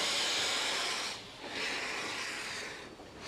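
Steady, loud hiss of steam venting from a steam locomotive being prepared, a continuous broad rush with a short dip in the middle, heard alone without talk.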